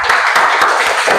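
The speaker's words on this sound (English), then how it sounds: "Give a clap for group visual." A classroom audience applauds a presenting student group, with a dense, brief burst of many hands clapping at close range.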